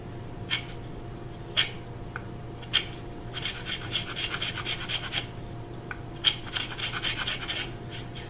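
A blade scrapes and cuts through thin wood veneer on an electric guitar body during a custom build, giving soft, close rasping strokes and a few sharp ticks over a low steady hum.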